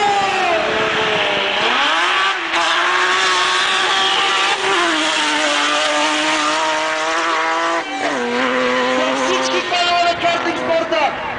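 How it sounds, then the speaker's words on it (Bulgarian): Go-kart and car launching side by side in a drag race, engines revving hard with rising pitch sweeps as they accelerate and shift, loud and close throughout with a brief dip near the end. "Видяхте, че картинга има по-добро първоначално ускорение."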